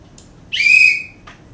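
A single whistle blast, fairly loud and held for about half a second, with a brief shorter chirp before and after.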